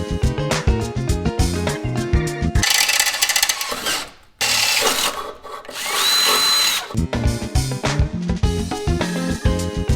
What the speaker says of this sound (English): we're just going to drill those out